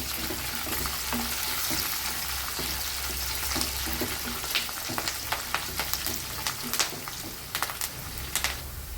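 Fresh curry leaves dropped into hot oil with browned onion and garlic crackle and sizzle steadily, followed by sharp spattering pops and stirring clatter, close and fairly loud.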